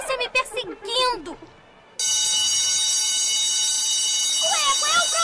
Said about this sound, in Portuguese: É o alarme da segurança.